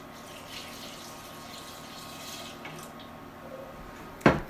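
Water pours steadily into a soup pot already simmering with coriander stems, a continuous soft gushing rush that ends in a brief loud clatter near the close, with no talking.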